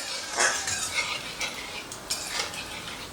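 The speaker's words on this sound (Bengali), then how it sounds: "তো ফোড়নটা একটু ভাজা হোক।" A tempering of whole cumin seeds and a bay leaf fries in hot oil, a soft sizzling hiss punctuated by several clinks and scrapes of a utensil stirring in the pan.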